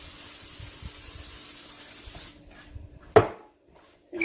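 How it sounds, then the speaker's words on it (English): Cooking spray hisses steadily from a can into an 8x8 baking pan for about two seconds, close and fairly loud, then stops, followed by a sharp knock as the can or pan is set down. "I'm going to spray this real quick."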